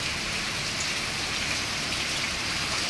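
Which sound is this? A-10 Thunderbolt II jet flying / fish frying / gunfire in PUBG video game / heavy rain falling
heavy rain falling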